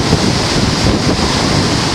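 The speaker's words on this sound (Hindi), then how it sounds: "पानी के शोर के साथ साथ पानी की चीज़ें भी जो है वो महसूस हो रही हैं कि पानी की स्पीड इस वक्त क्या है" Fast-flowing river water rushes loudly beneath a bridge, a dense, unbroken roar with some wind buffeting the microphone and no pauses throughout.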